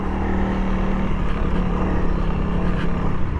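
Honda CRF300L dual sport motorcycle climbing a rocky trail, a loud continuous engine drone with steady revving and wind noise, close to the mic, no talking.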